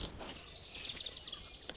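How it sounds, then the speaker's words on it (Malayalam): Several small birds chirp and tweet in quick repeated calls over a faint outdoor hush in a paddy field, with no one speaking. "നല്ല രസമല്ലേ ഈ പാടത്തെ കിളികളുടെയൊക്കെ ഒച്ച കേൾക്കാനായിട്ട്."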